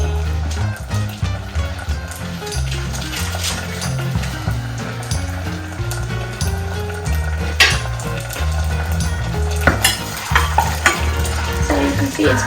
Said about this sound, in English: you can hear that garlic sizzling